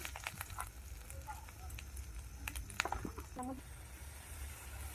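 Spice pastes of chilli, turmeric, ginger-garlic and cumin-coriander sizzle and crackle steadily in hot oil for a snakehead fish curry, a close, low frying hiss with small pops.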